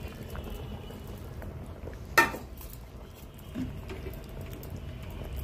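Fish curry with potatoes and cauliflower bubbles in a pot with a low, soft simmer, broken by a single sharp clink of metal against the pot.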